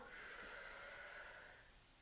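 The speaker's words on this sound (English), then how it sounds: "You can hear me breathing" Slow, audible breathing during a yoga exercise, one long airy exhale heard close and quiet, fading toward the end.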